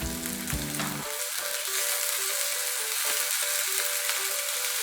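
Green chillies and tomatoes fry in a pan with a steady close sizzle, after a brief clatter at the start as they are added, then continuous hissing with no talk.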